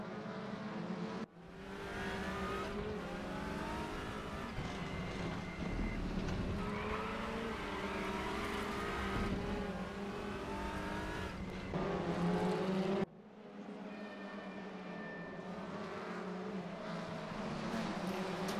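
Sim-racing touring cars in WTCR competition at Ningbo circuit, engines droning steadily as a pack runs close together, with a brief cut in the middle and faint voices under the motor noise.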